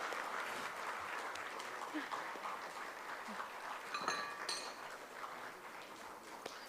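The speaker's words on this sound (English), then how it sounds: "let us give them a big round of applause" Steady applause from an audience at a foundation day event, a dense wash of clapping hands that holds at an even level throughout with a few brighter claps near the end.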